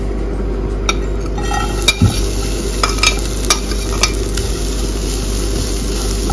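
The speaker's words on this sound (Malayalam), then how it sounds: "ഇപ്പൊ ഞാനിവിടെ അരമുറി തേങ്ങ ചിരകി എടുത്തിട്ടുണ്ട്. അപ്പൊ ഇതൊന്ന് നമുക്ക് വറുത്തെടുക്കാം." Grated coconut roasting on low heat in a pan, stirred steadily with a spoon, with a continuous close sizzle and scattered scraping clicks of the utensil against the pan, no talking.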